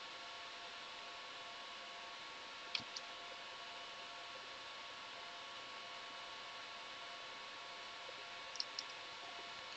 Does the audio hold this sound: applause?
no